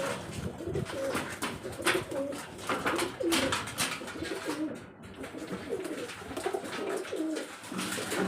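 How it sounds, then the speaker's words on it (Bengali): Breeding pigeons coo continuously inside a home loft, many soft overlapping rolling coos repeating close by over a steady background hum, with no talk. "এটা আমার ব্রিডিং পায়রার লব"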